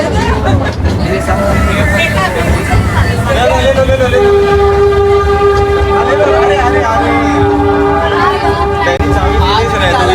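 A train rumbles along steadily with a loud, continuous rolling drone, and a long horn-like tone sounds partway through, with voices chattering underneath.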